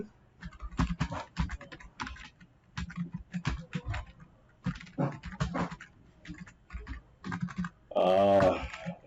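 A school name being typed on a computer keyboard, brisk clusters of close, crisp key clicks separated by short pauses, ending in a brief louder burst of sound.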